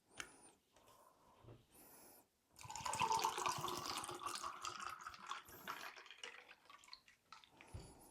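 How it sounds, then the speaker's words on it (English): Water pours and trickles into a container of homemade cranberry juice, a steady liquid stream after a few quiet drips and pauses, fairly close and soft, with no talking. "We add a little bit of water to ours"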